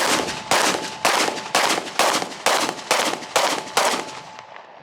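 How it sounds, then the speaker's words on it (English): Nine evenly spaced gunshots ring out at about two per second from a gun fired while the shooter walks forward, each sharp crack trailing into a short decay, loud and close with no talking. "I'm going to start walking first and then start shooting."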